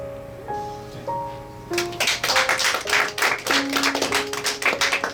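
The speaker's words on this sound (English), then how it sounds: "clapping at the end of everything" A small group claps steadily after a speaker finishes, the claps close and busy with a soft tone in the background, and no one speaks over them.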